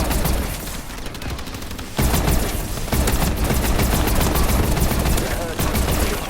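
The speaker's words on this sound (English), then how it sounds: "I shotgunned somebody finally." Rapid gunfire in the video game Call of Duty Advanced Warfare, loud overlapping shots and bursts packed closely together, with sharp blasts near the two- and three-second marks and continuous firing after, with talk mixed in.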